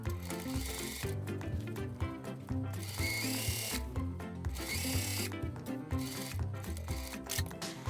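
A sewing machine stitching a seam pocket on a garment, running in rapid mechanical bursts with short pauses between runs, close and clear with no talking.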